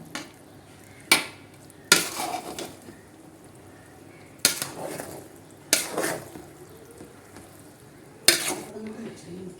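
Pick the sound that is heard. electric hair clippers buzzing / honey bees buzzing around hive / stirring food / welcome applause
stirring food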